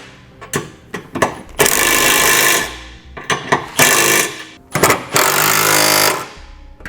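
A socket on a tool tightens the flange nuts of a Curt trailer hitch receiver on a 2017 vehicle, giving short ratcheting bursts and several longer, loud whirring runs broken by pauses and clanks.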